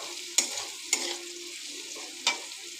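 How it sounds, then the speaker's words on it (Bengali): Potatoes, carrots and onion frying in a pan keep up a faint, steady sizzle while a spatula scrapes through them three times in sharp strokes, close by with no talking. "এবারে একটু নাড়াচাড়া করে নেব"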